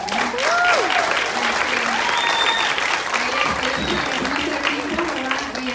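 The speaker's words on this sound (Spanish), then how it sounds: "Denles otro aplauso, ¿verdad?" Church congregation at a praise and recognition service giving loud, sustained applause for the worship team, a dense, continuous clatter of clapping with voices and cheers mixed in.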